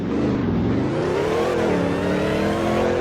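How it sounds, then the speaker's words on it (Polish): Supercharged car engine in Polish Car Driving revving hard, a rising engine roar topped by a clear high compressor whine that climbs steadily in pitch, loud and continuous with no speech. "dźwięki silnika same w sobie jakieś najlepszej jakości nie są, za to kompresor tutaj fajnie słychać"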